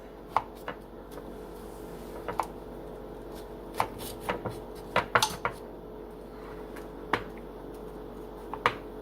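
A knife cuts into cranberry orange sugar cookie bars, making a string of sharp, close clicks and taps spread irregularly through the clip over a faint steady background hum, with no talking.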